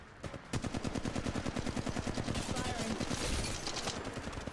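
Rapid automatic gunfire in the mobile shooter Apex Legends Mobile, a long burst of evenly spaced shots rattling loudly for several seconds, with excited voices nearby.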